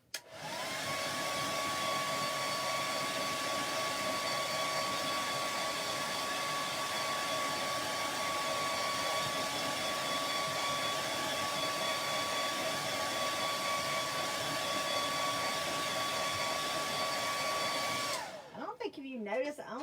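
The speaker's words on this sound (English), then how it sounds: "I'm going to use the handy dandy blow dryer to speed us up" A handheld blow dryer runs steadily to dry chalk paint, a loud continuous whirring hum with a constant tone that holds for almost twenty seconds before cutting off abruptly.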